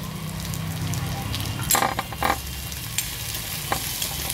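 Peanuts and green chillies sauté in a pan for a raw mango kharda, a soft continuous sizzle with a few scraping stirs and light clinks of the spoon against the pan.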